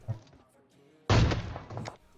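Gunfire in the video game PUBG Mobile: a faint shot, then a sudden loud burst of rapid shots that tails off, with a voice briefly present.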